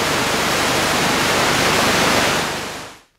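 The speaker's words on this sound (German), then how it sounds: "Nur das den ganzen Hörbereich ausfüllende weiße Rauschen" Electronic white noise spreads evenly across the whole audible range as a steady, loud hiss, then fades out quickly near the end, with no voice present.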